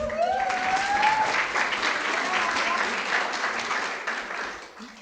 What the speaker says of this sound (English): I want you all to give a big round of applause